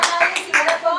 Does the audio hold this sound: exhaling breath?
no